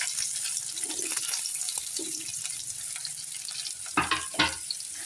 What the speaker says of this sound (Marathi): तेल तर गरमच आहे, त्याच्यामध्ये जिरं आणि मोहरी ऍड करूया।